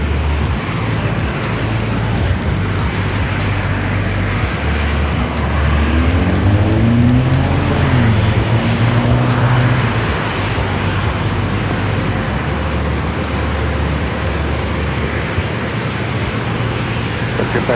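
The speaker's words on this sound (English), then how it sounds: "We got that Lufthansa A350 on its way in" A Lufthansa Airbus A350 airliner arriving at San Diego airport fills the air with loud, continuous jet engine roar, a pitch-shifting drone sweeping past midway as it draws near, with faint radio chatter underneath.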